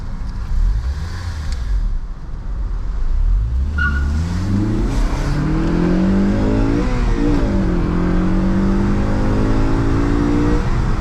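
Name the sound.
car engine accelerating while driving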